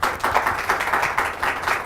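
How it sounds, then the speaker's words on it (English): A single person claps their hands in a steady run of about eight sharp, close claps, evenly spaced and fairly loud, with no talking over them. "Clapping for myself."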